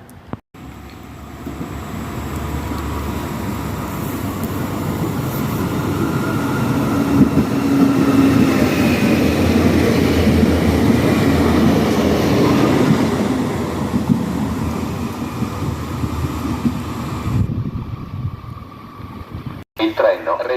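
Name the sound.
train passing through a station on platform 1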